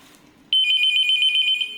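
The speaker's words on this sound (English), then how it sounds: "This is the high ringer. The ringer value is very high." A wired desk telephone rings at its high ringer setting, a loud, steady electronic trill that starts abruptly after a brief quiet moment and continues without pause.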